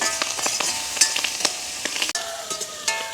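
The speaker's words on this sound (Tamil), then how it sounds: "இப்போ நல்ல வடிவாக நாங்கள் பிரட்டி விடுவோம்" Sliced onions and green chillies sizzle and crackle in hot oil in a village kitchen, with a pan being stirred and scraped in irregular bursts, close and steady, with no voices.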